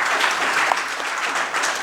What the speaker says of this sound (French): Vous pouvez vous applaudir, les journalistes de Kinshasa